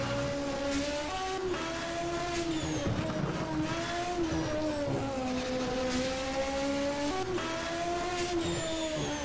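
Opel GT race car climbing the Col St. Pierre hill climb, a loud, close engine note holding steady and rising and falling through gear changes without pause.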